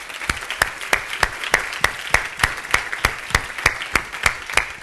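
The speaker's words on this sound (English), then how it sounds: "I applaud our panelists and all of you" Slow, evenly spaced claps ring out sharply and alone at a panel session, a steady rhythmic beat of about three claps per second with no talk.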